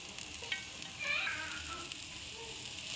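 Green chillies, capsicum and crushed red chilli are mixed in a pan for aloo bread pakora, giving a faint, even sizzle with light stirring. It stays quiet and steady, with no voices.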